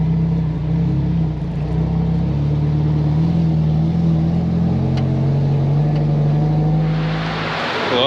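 Nissan 240SX engine idling with a steady, loud low rumble close by inside a building, holding even throughout before easing off near the end.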